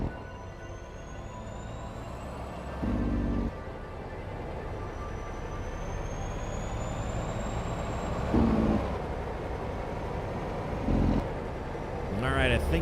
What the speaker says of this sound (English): Truck is very loud.